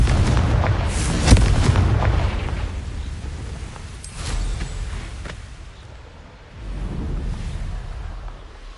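Magical Confringo blasts from the Hogwarts Legacy video game go off as several booming explosions, with a loud burst near the start, more blasts a few seconds later and a rumbling tail between them.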